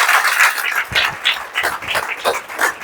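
Applause from an audience at a college women's cell valedictory function, a dense, steady wash of many hands clapping loudly with no pauses.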